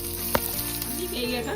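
Mustard seeds, cumin, dried red chillies and curry leaves sizzling in hot oil in a kadai for a chutney tempering, a steady close frying hiss with a single sharp pop.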